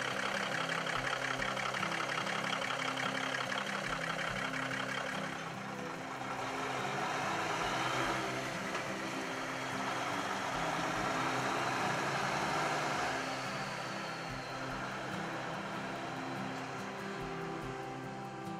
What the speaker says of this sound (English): Engine is a Cummins NTC 400.